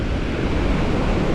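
Ocean waves at the breakwater protecting Hilo Bay in Hawaii, a loud continuous wash of surf mixed with heavy wind buffeting the microphone, no pauses or voices.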